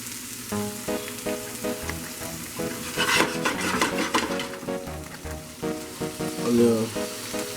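Kale hitting a hot pan, a loud burst of sizzling followed by spatula stirring scrapes and steady frying crackle, close up, with some background kitchen clatter.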